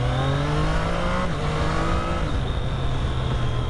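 A Triumph Street Triple 765 R motorcycle accelerates, its engine note climbing steadily in pitch, loud and close throughout, with no speech.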